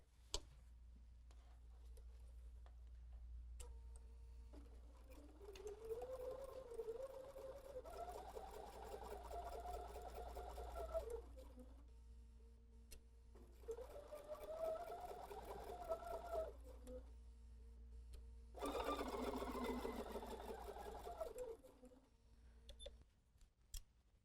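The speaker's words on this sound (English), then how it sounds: "let's go to the sewing machine. We'll chain stitch those together" A sewing machine chain stitching fabric for a table runner runs in three bursts of steady mechanical whirring, each several seconds long, with quiet pauses between and a low hum throughout.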